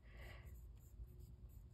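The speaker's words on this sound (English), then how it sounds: "let me just write you down" A pen writing a name on paper, a faint close scratching and rubbing over a quiet background hiss.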